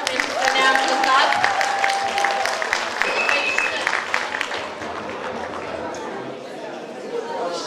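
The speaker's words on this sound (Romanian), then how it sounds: "să mai aplaudați odată pentru că ne-a ajutat" An audience at a festival of folk traditions and customs in Bacău county claps loudly and steadily, with crowd chatter and a voice speaking over the applause.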